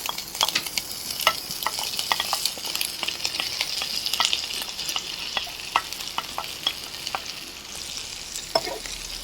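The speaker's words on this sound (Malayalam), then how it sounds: "അതുവരെ നമ്മൾ നന്നായിട്ടൊന്ന് വഴറ്റി കൊടുക്കുക" Ginger, garlic and green chillies sauté in hot oil for a quail egg pickle, a steady sizzle running throughout while a spoon scrapes and stirs in frequent irregular clicks, close and moderately loud with no talking.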